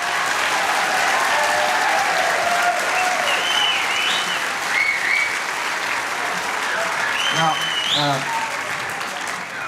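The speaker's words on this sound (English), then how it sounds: "Give him a round of applause." Applause fills the room at a school winter band concert, a loud continuous roar of many hands with a few whoops and whistles rising over it, and a voice speaking briefly near the end.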